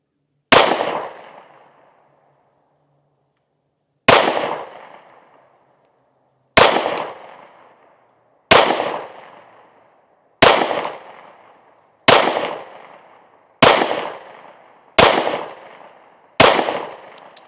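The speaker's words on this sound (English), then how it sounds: "we're going to try to go through these 10 rounds pretty slow" Nine sharp, loud shots from a 9mm Smith & Wesson Shield Plus pistol ring out one at a time, spaced slowly at first and then about every second and a half, each with a short decaying echo.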